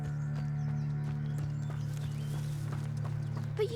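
Horses clip-clop at a steady walking pace in the Hogwarts Legacy video game, continuous hoofbeats over a constant low ambient hum.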